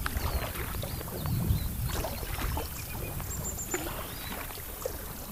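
A packraft paddled down the Naab river between Nabburg and Schwandorf, with soft water sloshing and paddle splashes in a steady low wash, faint birdsong drifting over it.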